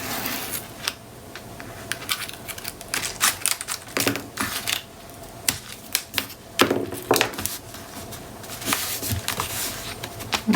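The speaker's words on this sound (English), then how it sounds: "I'm going to hold it in place while I lift off the backing of the tape" Tape backing is peeled away while making a book cover, giving a run of close, irregular crackling snaps and clicks at varying strength throughout.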